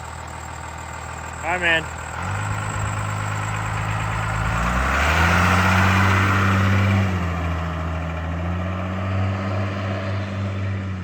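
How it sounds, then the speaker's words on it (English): Cummins diesel-swapped Toyota Land Cruiser rumbling just after a reverse burnout, a loud, close engine drone that rises and settles into a steady idle, with brief speech near the start. "Reverse burnout, pretty sick. Diesel and rubber, can't beat it."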